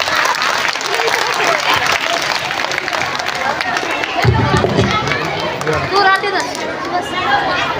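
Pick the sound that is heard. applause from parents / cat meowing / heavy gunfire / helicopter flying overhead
applause from parents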